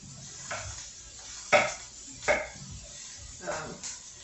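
Onion being chopped very finely on a board for an omelette, a few separate knife strikes spaced irregularly at close range.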